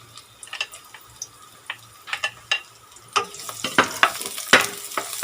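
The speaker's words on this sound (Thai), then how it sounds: "ใส่น้ำมันพืชลงไปเล็กน้อยนะคะ จะใส่กระเทียมนะคะ เอาลง เอากระเทียมลงไปเจียวให้หอมๆก่อน" Garlic sizzles and crackles as it fries in a little vegetable oil in a pan, with scattered pops and stirring scrapes that grow busier and louder toward the end, close by with no talking.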